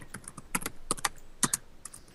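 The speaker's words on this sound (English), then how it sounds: "typing as loud as he possibly could" Loud, rapid typing on a computer keyboard, with clusters of sharp key clacks in an irregular rhythm and short pauses between bursts, close and alone without talk.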